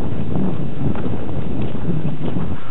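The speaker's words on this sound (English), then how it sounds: "that wind blowing the snow up there" Wind blowing snow along a winter mountain road, rough gusty buffeting against the microphone, close and loud, with faint crunching underneath.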